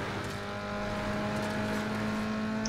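A car engine in Need for Speed Underground 2 accelerates and shifts gears, a steady game engine drone of moderate loudness with no talking.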